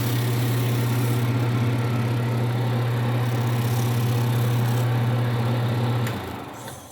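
A Flatmaster sanding machine runs with a steady, loud droning hum and a fine buzzing texture, then winds down and fades near the end.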